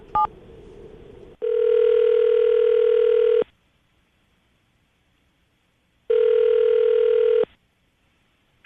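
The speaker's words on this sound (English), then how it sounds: "I'm going to call her right now, see if we can get her on the phone" A telephone call being placed, with a short burst of dialing tones followed by two long buzzing ringback tones separated by a silent gap, clear and loud.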